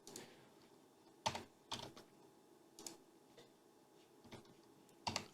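Scattered single keypresses on a computer keyboard while editing in Blender, about six sharp, quiet clicks spaced irregularly against a faint room hiss, with no talking.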